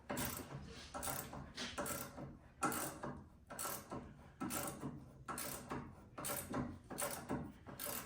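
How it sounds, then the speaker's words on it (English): An 18 mm ratcheting wrench works loose a front sway bar link on a 2015-2023 Jeep Renegade during a strut replacement, giving close, repeated bursts of rapid metallic clicking and rattling across the clip, with no talk. "An 18 mil ratcheting wrench."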